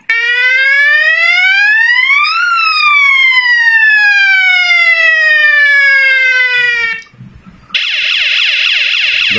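Electronic bicycle siren horn sweeping up and down in a loud wailing tone, then cutting out and switching to a fast, buzzing yelp pattern; close and loud, no talking.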